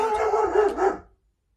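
A dog gives a short burst of loud, close barking and yelping at someone passing by with another dog, lasting about a second before cutting off into silence.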